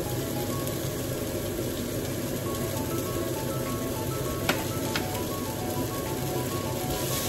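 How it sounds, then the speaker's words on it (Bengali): Ghee is added to chopped ginger and garlic frying in a pan, giving a steady, fairly quiet broadband sizzle that runs unbroken throughout with no one talking. "আদা রসুন কুচি করেছিলাম, তো ওটা ভালো করে ভেজে নেওয়ার পর আমি 1 টেবিল স্পুন এই ঘি দিচ্ছি।"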